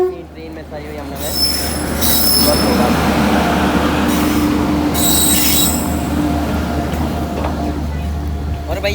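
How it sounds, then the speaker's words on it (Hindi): An express train pulled by a WAP7 electric locomotive departs, its wheels squealing loudly and steadily on the rails under a heavy rolling rumble, with high-pitched screeches rising and fading over several seconds. "चलिए आपको दिखा दें कुछ समय में यहाँ से डिपार्चर अपनी ट्रेन का"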